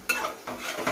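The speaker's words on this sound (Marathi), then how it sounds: "दही टाकलं ना की लगेच पटापट हलवायचं" Curd gets stirred briskly into a gravy for Rajasthani gatte in a pan, a spoon scraping and clinking against the metal in quick strokes over a soft sizzle.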